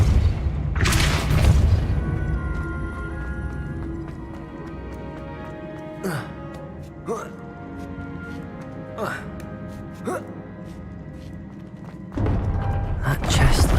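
Depulso spell cast in Hogwarts Legacy, heard as heavy thumping magic blasts, a loud burst at the start and another near the end, with smaller thuds and swishes between over a game music bed.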